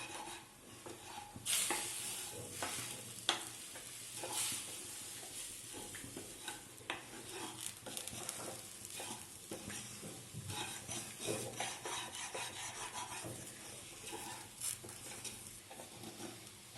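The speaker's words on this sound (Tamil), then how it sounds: "தேங்காய் ஒரு 2 நிமிஷம் போல வறுத்துருப்பேன்." Grated coconut roasting in a pan for sweet coconut poli, quiet dry crackling and sizzle with frequent spatula scrapes and taps against the pan, close and fairly faint, without speech.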